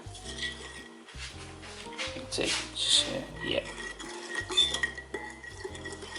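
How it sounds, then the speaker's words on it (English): A spoon stirring a tuna marinade in a bowl, with repeated clinks and scrapes against the dish in a quiet, close rhythm, while someone talks over it. "What I'm going to do is now give it a good stir"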